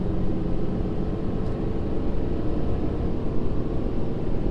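Ford Powerstroke diesel truck engine with an S&B air intake, towing 31,000 lbs uphill in third gear, a steady heavy low drone with continuous rumble heard from inside the cab, loud and unbroken, no talking.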